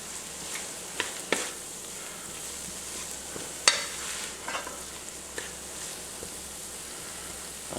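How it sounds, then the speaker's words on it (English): Half a stick of butter melts in a pan with caramelized pork chops, giving a low, steady sizzle broken by scattered spoon clicks and scrapes as it is stirred. "So we are going to now add in half a stick of butter. Gonna mix that up till it melts."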